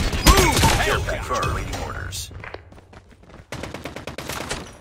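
In a Call of Duty Mobile match, sniper rifle shots and a burst of rapid gunfire crack close and loud, with a voice talking over the first half before a string of quick repeated shots.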